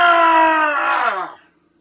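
A man imitates a Bigfoot's loud, wild, animalistic scream, a single sustained close howl that rises and then drops away into silence.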